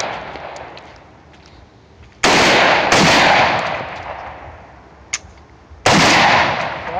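AR-15 rifle shots crack loud and close in three sharp reports spaced a few seconds apart, each followed by a fading outdoor echo, with a fainter pop in between.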